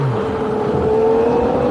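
An IndyCar race car engine failing mid-race, a steady strained drone that wavers and coughs rather than revving cleanly, heard briefly and alone.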